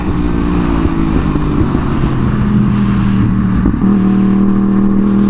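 2015 Yamaha YZF-R1 motorcycle on a track, geared down one tooth at the front, pulling through the gears as a loud, steady engine drone with tone shifts at each change, no voices.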